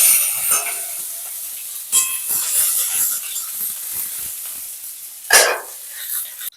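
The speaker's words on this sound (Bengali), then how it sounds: "আমার ফোড়ন ভাজা হয়ে গেছে।" Dry chilli, bay leaf, cumin and grated ginger sizzle as a tempering in hot oil in a pan, a steady hiss broken by scraping stirs and one sharper spit of frying.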